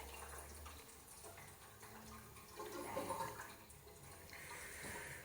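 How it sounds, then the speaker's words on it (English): Water gurgles and splashes steadily as it drains out of an ultrasonic cleaner, a close, continuous rushing with small sloshing swells. "Let's drain that water out of it."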